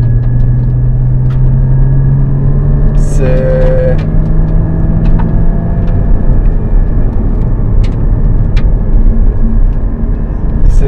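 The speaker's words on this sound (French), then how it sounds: "Puis forcément ça pousse et il y a le son du flat 6" Porsche Cayman GT4 (981) flat-six engine pulling hard on a road drive, a loud steady cabin drone with rising pitch, a shift-like break partway, and brief speech over it.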